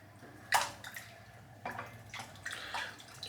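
Water running and splashing into a sink to soak a synthetic-fibre shaving brush, a faint trickle broken by several short splashes and gurgles.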